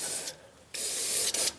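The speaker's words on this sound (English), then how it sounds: "I'm going to spray this in there" Mass air flow sensor cleaner is sprayed into a car's throttle body in two short hissing bursts, close and fairly loud, with brief pauses between them.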